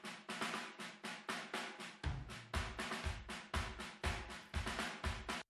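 Pop punk drum room tracks from Steven Slate Drums, EQ'd to keep the mid-range and cut the high end, play a fast steady beat of roomy snare and cymbal hits, with kick drum thumps entering after two seconds, alone and fairly quiet.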